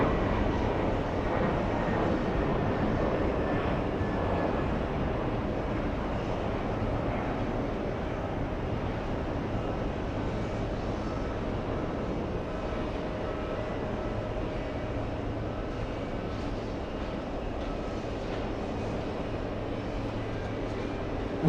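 A JetBlue Airbus A320 in FDNY livery produces a long, even jet rumble that stays at the same level for over twenty seconds, distant and unbroken, with no voices.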